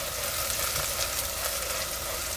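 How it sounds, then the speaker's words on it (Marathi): Chopped onion with ginger-garlic paste sautés in a clay pot over a village-style stove, producing a loud, steady, close-up sizzle and crackle with no pauses and no talking. "आपण बारीक करून घेतलं ते घालूया. थोडंसं आपल्याला कांदा बरोबर आहे ना हे परतून घ्यायचं"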